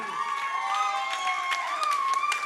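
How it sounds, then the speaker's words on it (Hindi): An audience at a business seminar claps and cheers in a dense, continuous wash of applause with sharp hand-clap bursts and sustained voices. "तो मैं कहता हूं इनके लिए जोर जोर से चिल्ला चिल्ला करके ताली बजनी चाहिए।"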